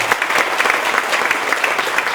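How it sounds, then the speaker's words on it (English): A live-stream audience claps for NTUA engineers at a Navajo Tribal Utility Authority event, a loud, brisk round of applause with crisp overlapping claps, steady from start to finish and free of talk. "Give these folks a round of applause, these engineers, NTUA engineers,"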